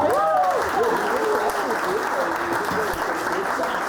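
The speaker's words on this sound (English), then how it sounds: "Jonas, big round of applause for my bro" An audience at a live comedy show applauds a volunteer, with dense sustained clapping throughout and cheering voices rising over it near the start.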